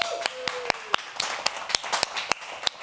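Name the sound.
applause from a small audience for the musicians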